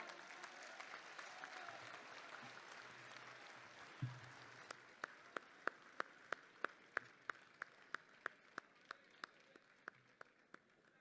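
Applause greets a poet arriving on stage at a mushaira in Dubai. A dense crowd clapping at first gives way to slower, sparser, distinct claps that fade toward the end.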